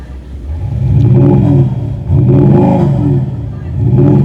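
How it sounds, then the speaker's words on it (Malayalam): A Maserati Ghibli in normal mode revs near and loud, its exhaust rising in three deep swelling bursts with a low rumble between them. "ഇനി നമ്മൾ ഡ്രൈവിലേക്ക് പോകുന്നതിന് മുന്നേ ഞാൻ അതിൻ്റെ എക്സോസ്റ്റ് നോട്ടൊന്ന് കേൾപ്പിക്കാം. ആദ്യം നോർമൽ മോഡ്, പിന്നെ സ്പോർട്ട് മോഡ്."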